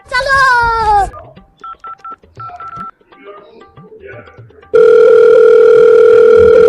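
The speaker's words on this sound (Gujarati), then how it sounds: "લગાવો, તમે તમારા બેનના ફોન લગાવો" A phone call to a relative is dialed in a quick run of keypad beeps, then a loud steady telephone tone takes over. A voice is heard at the start.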